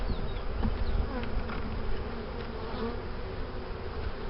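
Honey bees buzzing inside a hive during an April inspection, a dense, continuous low drone close by with no speech.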